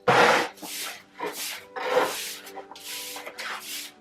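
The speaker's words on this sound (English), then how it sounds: "I'm trying to get the worst of it with the back of the broom" Bristles on the back of a broom scrape sawdust across a basement floor in repeated rough strokes, about six close rasping sweeps with short pauses between, heard alone.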